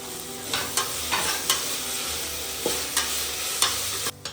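Green chillies fry in masala for Kerala chicken biryani, with a steady sizzle punctuated by regular spoon knocks and scrapes against the pan, close and clear, about eight strokes.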